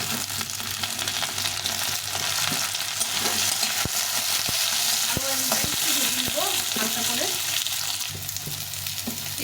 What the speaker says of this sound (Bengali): আমি আলুটা কিছু ভেজে নেব এখন বেগুনটাকে দিয়ে দেবো